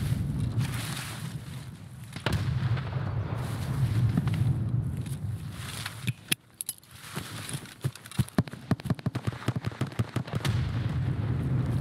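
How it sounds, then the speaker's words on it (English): Grenade explosion in the shooter Escape from Tarkov, a heavy burst midway through windy outdoor ambience, followed by a rapid run of sharp, crackling gunshots. "Got him with the nade, bro."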